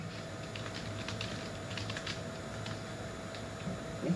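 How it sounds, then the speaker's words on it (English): Soft, irregular clacking of keys on a computer keyboard, continuous and moderately close, over a low steady hum with no talking. "Can you hear my keyboard?"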